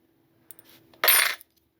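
A single old coin drops into a box with a sharp metallic clatter and brief rattle, preceded by a softer shuffle, close and alone.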